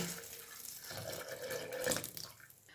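Water pours steadily into a blender jar for a couple of seconds, a soft splashing flow heard close and fairly quiet, a glass of water added while making pomegranate juice.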